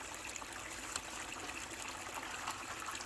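Plenty of water streams steadily through a Gold Cube gold-recovery sluice while a bucket of gold-bearing material is run, making a continuous close rushing trickle with no voices.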